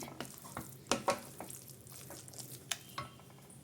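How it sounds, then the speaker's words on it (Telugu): Sweet poha pongal with ghee is stirred in a pan on the stove: soft, close scraping with a faint sizzle underneath and a few sharper spoon knocks against the pan, fairly quiet throughout. "ఒకసారి కలిపేసుకొని"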